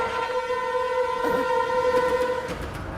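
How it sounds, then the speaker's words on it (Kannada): A train approaches in the Motu Patlu cartoon, sounding a sustained, steady horn-like whistle for about two and a half seconds over a low rolling rumble, with no talking. "ಅಯ್ಯೋ, ರೈಲು"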